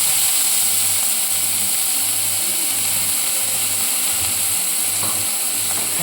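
Green chilies, garlic and onion sizzle in a frying pan with a constant bright hiss, loud and close, and occasional faint clinks of stirring.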